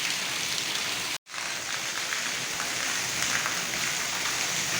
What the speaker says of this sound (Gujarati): જોયો ને વરસાદ કેવો છે